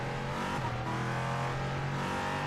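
LMP3 prototypes and a BMW race car thunder past at Watkins Glen in a racing sim game, a loud, continuous engine roar with a steady tonal drone that holds without a break.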